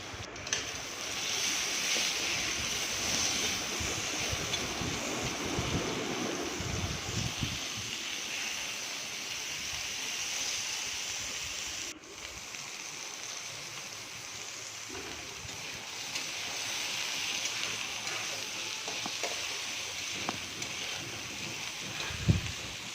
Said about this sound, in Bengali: এখন সেই তেলে বেগুনগুলো ভেজে নেব হলুদ আর লবণ দিয়ে ভালো করে লাল করে ভেজে নেব